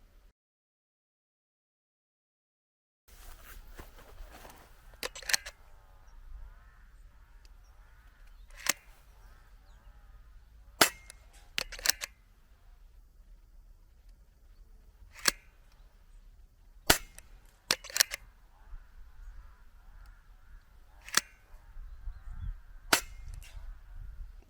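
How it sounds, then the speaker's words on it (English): An air gun fires hollow point pellets over a chronograph outdoors, with about ten sharp, isolated cracks spaced several seconds apart above a faint, quiet background. "Now let's get these pellets over the chronograph and see if the power output varies between pellet to pellet."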